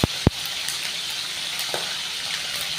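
A rohu fish head fries in hot oil with a steady, dense sizzle throughout, marked by a couple of sharp pops at the start.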